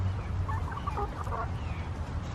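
Backyard chickens, a brown-gold hen and a young gold rooster among them, giving a few soft clucking calls at moderate distance over steady outdoor background noise, with no talking.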